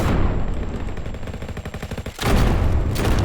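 Rapid bursts of automatic gunfire in a Roblox shooter game rattle loudly, a brief pause, then another dense volley of shots with a synthetic, game-like quality.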